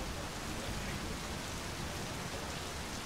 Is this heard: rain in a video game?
yes